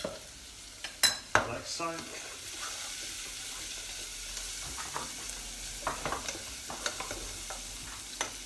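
Finely sliced garlic frying in a pan, a steady low sizzle with a few clanks and stirring scrapes near the start, close but quiet, and a voice speaks briefly.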